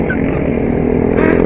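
A loud Honda CBR motorcycle engine revs close by during a street celebration of fans after a football championship, a harsh, dense roar holding steady and swelling slightly at the end.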